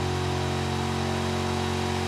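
A car accelerating in the BeamNG driving simulator, a steady loud engine drone with a low hum and strong harmonics that holds continuously for about two seconds.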